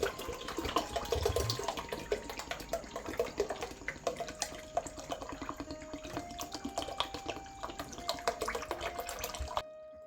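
Lemon juice pours steadily into 32-ounce bottles during a canning batch, a continuous liquid gurgle with splashes, ending abruptly near the close.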